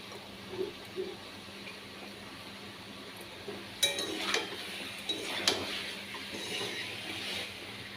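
Potato and soybean curry stirred in a cooking pot, with a few soft clinks and scrapes of a utensil against the pot over low kitchen background noise.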